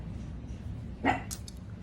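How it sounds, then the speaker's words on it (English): A dog barks once at moderate distance indoors, a single short bark over a quiet room hum, followed by a faint rustle. "my dog was making noise"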